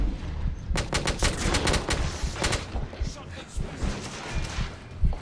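Dense gunfire in the video game The Order: 1886, with rapid overlapping volleys of shots rattling close and loud, mixed with game voices.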